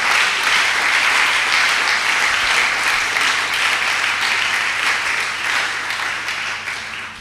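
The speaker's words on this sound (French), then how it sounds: "Est-ce qu'on peut acclamer pour l'homme de Dieu?" A church audience applauds a preacher with sustained dense clapping and some cheering, loud and steady before easing slightly at the end.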